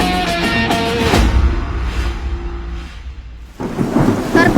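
Heavy rain pours steadily in a dramatic film scene while deep rolling thunder rumbles loudly through the middle, with no speech over the storm.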